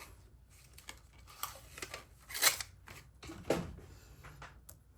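Paper-crafting tape is pulled and handled to hold down paper, heard as a few quiet, close crinkles, rips and snips separated by near silence.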